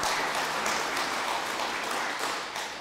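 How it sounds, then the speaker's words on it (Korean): Sustained applause from an audience at a church rally in Korea honoring pastors and family department heads, dense and steady clapping filling the hall at fairly close range. "우리 목사님들께 그리고 가정부장님들께 큰 격려의 박수를 부탁을 드리겠습니다."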